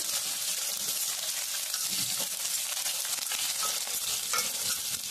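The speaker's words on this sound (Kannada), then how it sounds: "ಇಷ್ಟು ಹಾಕ್ಬಿಟ್ಟು ಇದನ್ನು ಕೂಡ ಸ್ವಲ್ಪ ಹೊತ್ತು ಈ ತರ ಫ್ರೈ ಮಾಡ್ಕೋಬೇಕು." Cumin seeds frying in oil for tomato chutney give a dense, even crackling sizzle throughout, close and steady, with faint stirring and no voices.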